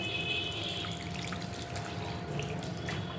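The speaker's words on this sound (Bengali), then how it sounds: "মাংসটা কষা হয়ে গেছে এবার এর মধ্যে জল দিয়ে দিলাম" Water poured into a pot of browned meat curry on the stove: a continuous close gushing and trickling, steady throughout with no voices.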